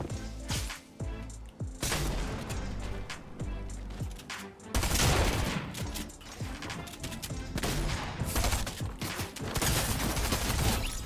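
Sniper rifle shots in a Fortnite match, sharp booming gunfire cracks repeating in rapid bursts amid continuous game effects and crashes, loud and close throughout.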